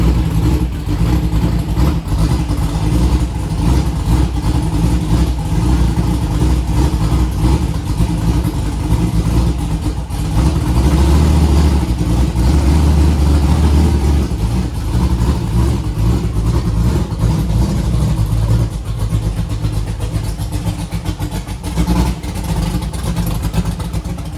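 A 1964 Comet race car engine turns over and runs, its low throbbing idle swelling into loud revs and settling back, up close and continuous throughout.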